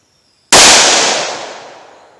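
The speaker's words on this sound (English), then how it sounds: "Alright, let's try the 357 Magnum version." A single loud gunshot from a .357 Magnum revolver fired in single action, with a sharp blast up close followed by a long, fading ring-out.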